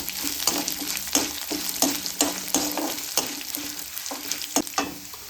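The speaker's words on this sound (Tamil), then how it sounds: "வதக்கிக்கோங்க. மணம் வருது. வரமிளகாய், இஞ்சி, பூண்டு எல்லாத்தையும் சேர்க்கலாம்." Dried red chillies, ginger and garlic sauté in a hot pan, a steady sizzle broken by repeated sharp scrapes of a spatula stirring, close up with no voices.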